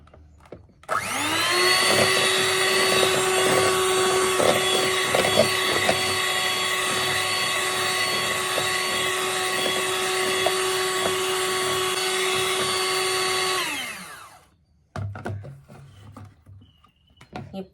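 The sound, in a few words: egg yolks being beaten with a mixer for cake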